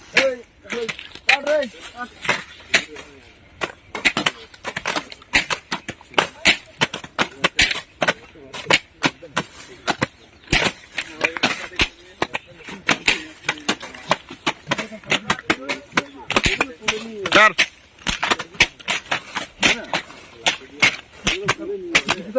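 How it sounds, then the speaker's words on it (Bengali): Illegal poppy plants in a field burst and crack as they are struck and beaten with sticks, a rapid irregular series of sharp snapping hits and thwacks mixed with rustling stalks and voices talking. "হ্যাঁ, লাঠি মারলে ফেটে যাচ্ছে"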